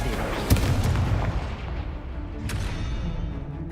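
The Incendio fire spell is cast in a video game with a sharp booming blast followed by a sustained roaring, crackling rumble and a second bright burst near the end, loud and close.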